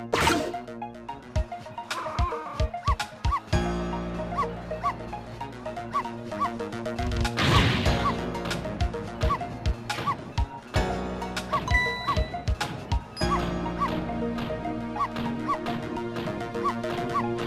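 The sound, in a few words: dog Missile barking, from video game Ghost Trick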